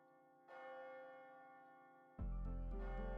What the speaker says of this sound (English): Is that the bell? The clock moved. Midnight.